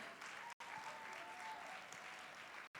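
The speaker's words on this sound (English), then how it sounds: "Please, a round of applause for her." A crowd at a one-day professional event claps in a continuous round of applause, even and sustained but fairly quiet, broken by two sudden brief dropouts.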